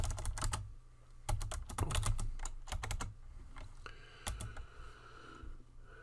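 Quick bursts of computer keyboard typing clatter up close, with pauses between flurries and a low background hum.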